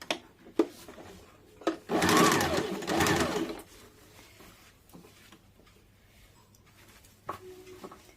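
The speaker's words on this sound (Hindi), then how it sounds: "इसको इस प्रकार से मोड़ के इसके ऊपर सिलाई डालना है" A sewing machine runs a seam along a folded blouse strip in two close bursts of steady stitching, with scattered sharp handling clicks before and after and no speech.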